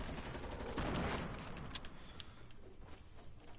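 Gunfire from the Fortnite video game, with a burst of rapid shots up front followed by scattered lighter reports, fairly faint and distant in the mix.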